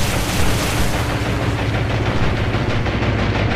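Enemy warship guns fire in the Atlantic Fleet naval game, a loud, continuous rumble of booming artillery and explosions that fills the clip with no clear breaks.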